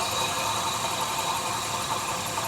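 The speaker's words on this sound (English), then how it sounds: "the compressor's definitely making some noise down there" A noisy A/C compressor hums on the running engine of a Nissan Rogue, a steady mechanical drone with a faint whine, close up, continuous and without speech.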